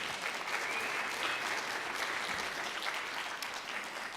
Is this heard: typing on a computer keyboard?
no